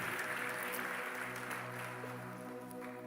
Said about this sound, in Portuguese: Você pode aplaudir mais uma vez o Senhor por essa palavra?